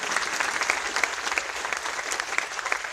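A church congregation in Manado applauds during a worship session, a dense, sustained wash of many hands clapping with a few sharper claps standing out.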